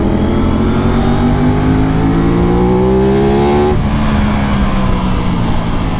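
Aprilia RS 660 motorcycle at wide open throttle climbing a hill, its engine note rising steadily and loudly in pitch before dropping back, close and continuous.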